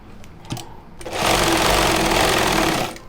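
A sewing machine stitches a shirt collar close by, starting after a few soft handling clicks and then whirring loudly and steadily for about two seconds before stopping.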